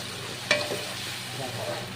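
Spices with raisins and turmeric sauté in a pan, a soft steady sizzle with one sharp clink of a utensil early on and faint stirring afterward, fairly quiet and close.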